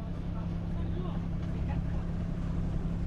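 A sailboat motoring under engine power, its motor a faint, steady low hum with a constant drone beneath soft wind and water noise.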